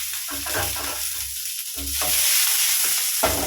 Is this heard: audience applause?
no